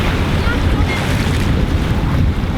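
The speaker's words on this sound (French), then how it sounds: "Mais il y a du vent." Steady, loud wind buffets a microphone beside the sea, a broad continuous roar with surf-like wash, at a seaside house with swings nearby.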